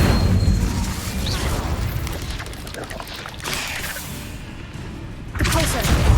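Incendio fire spell cast in a Harry Potter video game, a loud, rough fiery burst at the start that tails into rumbling, followed by a second blast near the end, with a voice briefly audible.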